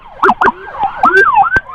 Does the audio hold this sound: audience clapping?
no